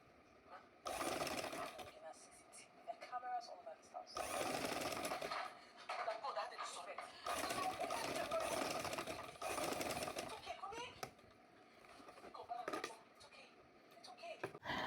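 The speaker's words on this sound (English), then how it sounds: "I'll stitch it all the way to the end" A sewing machine stitches along the fabric edge of a bandana headband in several loud, steady whirring bursts separated by short pauses, close up.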